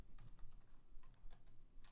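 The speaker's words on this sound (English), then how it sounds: "You can hear me typing probably." Soft, rapid clicking of keys on a computer keyboard, steady and faint against a quiet background hum, with no voices.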